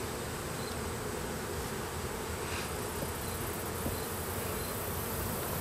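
A dense, continuous drone of many honeybees buzzing at an open beehive during a hive inspection, steady and enveloping throughout with no talk.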